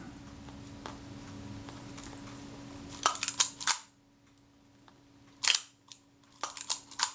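Shutter of a Reflex IV camera firing at a fast 1/500 second speed, several crisp mechanical clicks in small clusters, close and clear against a faint background hum.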